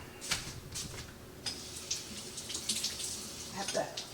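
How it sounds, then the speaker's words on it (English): Running tap water in a home kitchen sink as hands are rinsed, a quiet steady splashing flow with a few small clinks and knocks mixed in. "I have to rinse my hands off"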